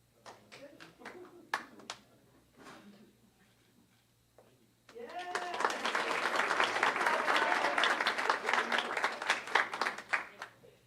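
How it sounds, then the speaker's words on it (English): A speaker addresses the room at a school district governing board meeting, then the audience breaks into a round of applause, with sustained, fairly close clapping that fills the last several seconds. "So let's give them another round of applause."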